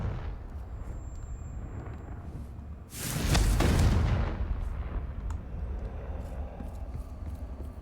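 A Confringo blast curse detonates in Hogwarts Legacy, a single loud, close, broad explosive burst that swells and rumbles for about a second before decaying into a lingering low rumble.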